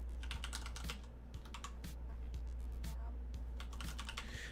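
Rapid typing on a computer keyboard while entering commands, a continuous run of close, crisp key clicks at an even pace with no talking.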